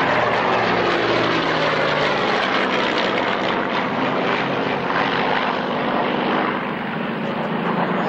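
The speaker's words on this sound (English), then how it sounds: "Two Spitfires, 109 and Mark 9 from the left." Two Spitfires, one a Mark 9, fly past at the 1997 Duxford Flying Legends airshow, their piston engines and propellers making a loud, sustained drone that holds steady throughout.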